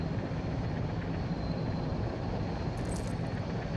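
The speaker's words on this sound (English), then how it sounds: "now we're going to land our helicopter somewhere" A helicopter in a video game drones steadily while flying in to land, a continuous broad rotor and engine roar at even loudness throughout, with no talking.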